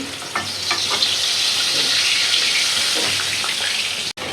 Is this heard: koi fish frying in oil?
yes